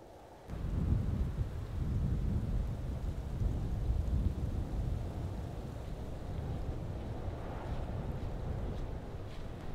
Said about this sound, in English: Let the snow fall and the wind blow.